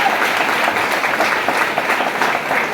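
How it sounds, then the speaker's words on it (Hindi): Sustained, dense applause from an audience at a celebration program honouring leaders, steady and fairly loud throughout with no talking over it. "में जोरदार ताली होनी चाहिए।"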